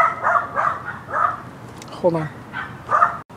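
Several dogs bark and yip near a person who talks over them. The barks come in short, sharp bursts with a whimpering squeal in the middle.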